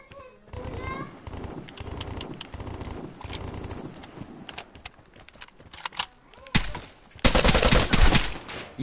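Sniper and rifle fire in the video game Vigor, with repeated sharp shots through the clip, scattered cracks and then a dense loud burst near the end, while someone talks excitedly in French.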